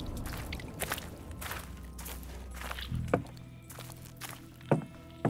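Footsteps of a player character moving through a dark location in the horror game Ad Infinitum, a steady series of soft thuds, with a few sharper knocks late on.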